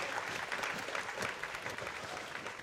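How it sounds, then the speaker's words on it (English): Applause from a conference audience for the presenters: a dense, even wash of many hands clapping, faint and distant throughout. "how about a round of applause for our presenters?"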